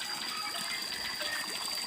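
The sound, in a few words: spring water gushing from spout in valley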